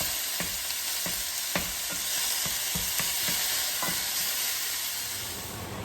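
Meat frying steadily in a pan, a constant broadband sizzle with scattered clicks and scrapes from a utensil, close and fairly loud, no talk.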